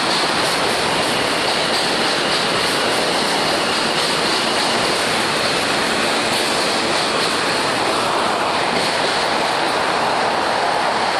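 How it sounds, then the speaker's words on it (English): A loud, steady roar of a New York City subway train rushing past on a bridge, broad and continuous throughout, with no break or pause. "a subway train going past"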